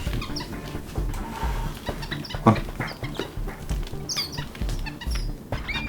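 Several birds in baskets cluck and squawk nearby in uneven bursts, chicken-like calls overlapping with shuffling and rustling.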